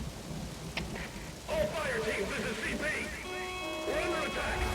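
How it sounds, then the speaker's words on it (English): Steady rain hisses in the background of Metal Gear Solid V: The Phantom Pain while game sounds and tonal electronic effects play over it. "now you notice it's started to rain."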